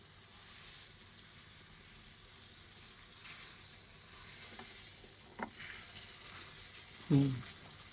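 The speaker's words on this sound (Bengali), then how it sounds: "আস্তে আস্তে মাছটা ভাজা হোক" Hilsa fish fries gently in hot oil, a soft continuous sizzle with light crackles, faint and steady, ending in a brief louder scrape near the end.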